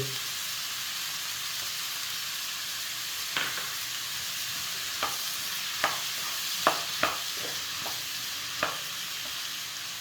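Ginger, garlic and cashews sauté in a pan for paneer butter masala, with a steady, close sizzle and a few sharp clicks as a spoon stirs against the pan.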